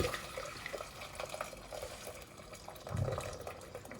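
Boiling water poured into a wide pot for rice, a soft steady splashing trickle running throughout at low level, close by, with a slightly fuller gurgle near the end.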